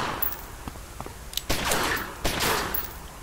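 Gunfire in the gangster strategy game Omerta: City of Gangsters, a few sharp isolated shots followed by two louder bursts of rapid fire, fairly close and standing alone without talk.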